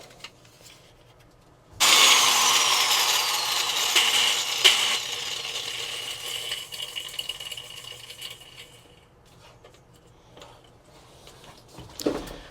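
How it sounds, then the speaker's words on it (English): Grinder working pinch welds on a car body gives a sudden loud rasping whine that holds for a few seconds, then tapers off into quieter scraping and a faint clatter at the end. "I do want to grind those down"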